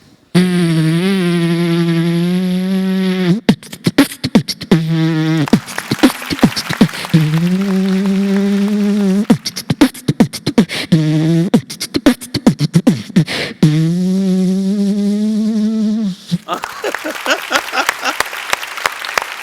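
A voice imitates a fly's droning buzz, the hum broken up by quick percussive beatbox clicks and bursts, loud and close.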